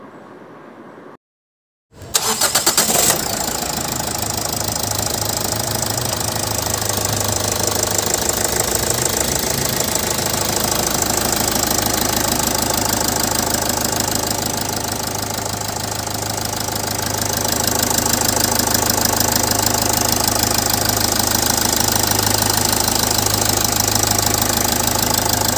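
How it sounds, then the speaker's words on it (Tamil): A Toyota Etios car engine with about 625,000 km on it starts up and runs at a steady, loud idle with a ticking, knocking rhythm, close up and alone for over twenty seconds. "இந்த இன்ஜினோட சவுண்ட் ஃபுல்லாக பாருங்கள்."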